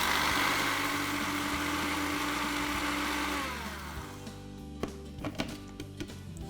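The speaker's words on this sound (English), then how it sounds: "you just want to blend that up into a flour" A blender grinds porridge oats into flour, a loud steady whirring roar that drops in level partway through and then sputters into a few irregular thumps as the machine winds down.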